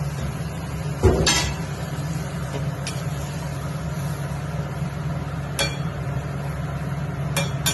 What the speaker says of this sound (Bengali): এবার ঢাকা দিয়ে দিচ্ছি। এই যে বন্ধুরা, এবার ঢাকাটা খুলছি আমি।